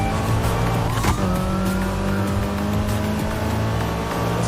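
A car engine during a car chase roars continuously, loud and close, its pitch sliding as it revs, with faint tire noise and no talk.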